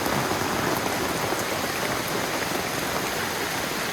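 Steady, dense rain pours down continuously, a broad hiss of drops close by with no voices.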